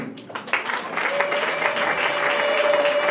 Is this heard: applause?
yes